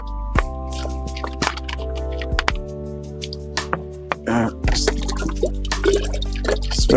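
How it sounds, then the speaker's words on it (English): Water is poured into a glass jar, with sharp drips, plops and clinks of the jar over a steady low hum, close and fairly loud, no talk over it. "We are gonna just fill it up with water."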